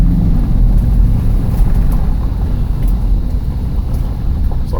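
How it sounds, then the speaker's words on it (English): 2010 Ford Explorer in four-wheel drive with all four tires sitting in stones, its engine revving under gas in a steady low rumble with wind buffeting the microphone, close and loud. "So here I'm going to give it some gas, and we'll see what happens."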